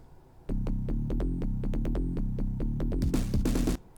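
A short electronic bass tune in the style of Sonic the Hedgehog, made in the Phase Plant synthesizer, plays in bouncy, repeating notes with a chiptune feel, ending with a brighter burst before cutting off.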